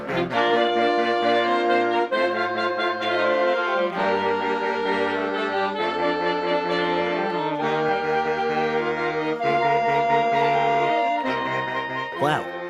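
A saxophone orchestra plays a dense, full chordal passage with shifting low and mid harmonies, loud and continuous throughout with no talk.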